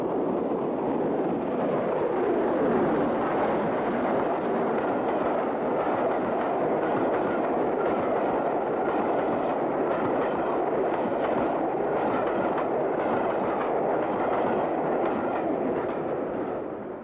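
An LNER steam locomotive hauling a train through snow, a dense continuous roar of exhaust and running gear with rumbling wheel noise, loud and steady for the whole stretch, no voices.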